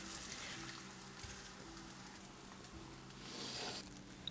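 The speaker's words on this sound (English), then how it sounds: "Add 4 slices of mortadella and fry a little bit on each side" A quiet, steady sizzle of mortadella slices frying in a pan, a soft continuous crackle with no talking.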